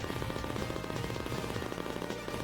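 Rapid-fire gunshots in the arcade game Cadillacs and Dinosaurs, a fast, continuous stream of sharp shots over busy game music, fairly quiet overall.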